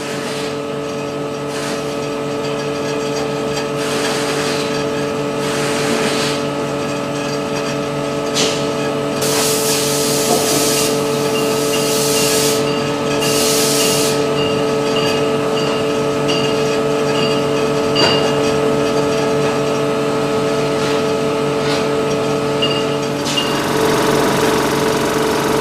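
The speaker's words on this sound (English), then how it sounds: "you can see a butterfly valve of a special shape performing fine control of fluid flow" Fluid flows through a specially shaped butterfly valve held at a slight opening on an experiment apparatus, producing a loud, steady rushing hiss over a constant mechanical hum, with periodic bursts of brighter spray-like noise; no talking.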